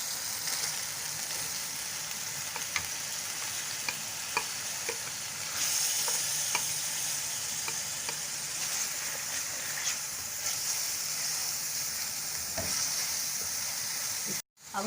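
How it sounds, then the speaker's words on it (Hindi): Tomatoes dropped into onion, garlic and ginger frying in a pan sizzle steadily while a spoon stirs and scrapes with light clinks, close and continuous for the whole stretch. "अब हम इसमें टमाटर ऐड करेंगे।"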